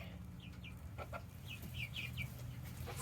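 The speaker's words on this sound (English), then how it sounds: "And we have another chicken laying an egg." Hens clucking in a backyard coop while one lays an egg, with soft, rhythmic clucks in a short run that rises toward the end, close by over a quiet outdoor background.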